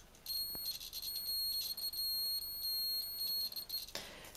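Continuity beeps from a multimeter with a flat battery, probed on pins of a Panasonic MN86471A HDMI encoder chip in a PS4: a shrill, slightly unsteady tone sounding in several short bursts, close and fairly loud.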